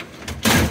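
A drawer slides on a loaded metal Lista parts cabinet filled with compartments, giving a short scraping rush that ends in a louder rolling, rumbling stop, close and brief.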